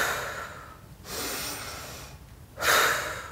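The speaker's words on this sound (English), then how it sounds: "Take some breaths up." Deep breathing during a lymphatic body exercise, slow audible inhales and exhales in long airy swells, close and moderately loud, with no talk.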